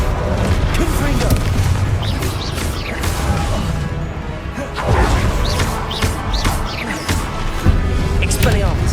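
Confringo fire spell blasts in Hogwarts Legacy, repeated crashing booms and impacts amid dense combat noise, with voices shouting over the fight.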